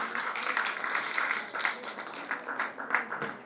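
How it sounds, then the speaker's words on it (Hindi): Audience applause at a literary award ceremony honouring Indian writers, a steady patter of clapping over which someone speaks through a hall PA, the clapping sustained but modest in volume. "तालियां बजाते रहिए"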